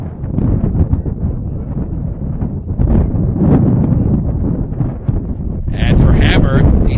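Heavy, rumbling wind buffets the microphone throughout at an outdoor high school baseball game, a constant roaring gusty noise with no clear pauses.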